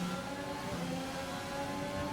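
An AlphaTauri F1 car with a Honda engine in F1 2020 drones steadily at high revs, a continuous loud engine tone over a brief stretch as it pushes past.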